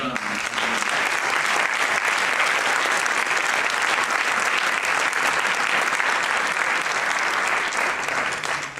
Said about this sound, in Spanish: creo que requiere, merece y amerita un aplauso de agradecimiento